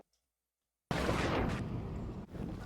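A loud, abrupt detonation blast in the Life is Strange: Reunion video game bursts in after a moment of silence, then rumbles on with a sustained roar and debris-like crackle.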